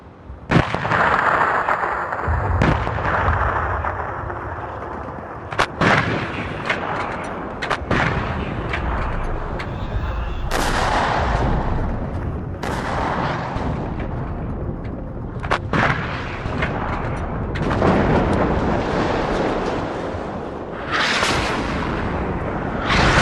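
Artillery guns fire in the video game WARNO with loud, repeated booming blasts. Heavy rumbling explosions overlap almost without pause, and sharp cracks punctuate a continuous roar of battle.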